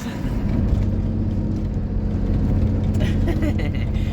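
Converted camper truck rolling along a Moroccan road, a steady low engine rumble and road drone from inside the cab, continuous and fairly loud with no breaks.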